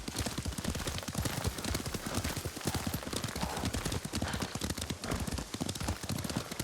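Rapid, continuous clip-clop of horse hooves at a steady gallop in the video game Ghost of Tsushima, close and loud, with a dense rhythmic pounding throughout.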